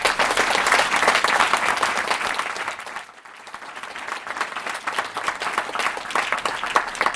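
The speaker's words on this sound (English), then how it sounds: "Give Matt a big round of applause." Crowd applause for Matt Mullenweg at a Startup Grind event in New York City: a full, dense roar of clapping from a seated audience, briefly dipping midway before swelling back to a steady, sustained ovation.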